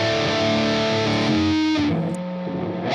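A high-gain electric guitar lead tone through a Bogner Uberschall amp roars loud and saturated, sustained notes shifting pitch over a few seconds with no voices.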